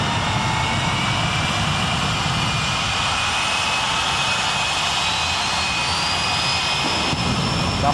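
Jet-powered funny cars, a 2000 and a 1999 Monte Carlo, roar together in a race pass at Castrol Raceway in Edmonton. The sustained broadband jet howl holds steady and loud for the full stretch, with a high turbine whine on top.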